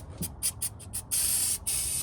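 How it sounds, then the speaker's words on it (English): Several short hissing bursts of brake cleaner spray in quick succession, then two longer continuous sprays, close up with no talking. "lightly spray some brake clean on her"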